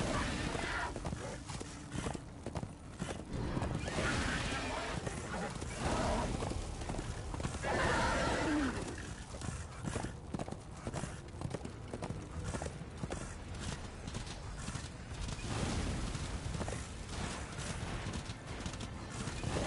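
A horse in the Darksiders 2: Deathinitive Edition video game, with steady clip-clop hoofbeats and a whinny over dense game sound and music for about twenty seconds, with a voice at times.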